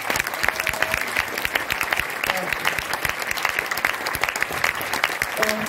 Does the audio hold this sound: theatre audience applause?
yes